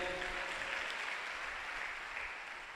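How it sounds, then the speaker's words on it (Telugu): A church congregation at a Telugu Christian sermon in Guntur bursts into applause, a dense, steady wash of many hands clapping that fills the whole moment without a break. "చప్పట్లు కొట్టు ఒకసారి"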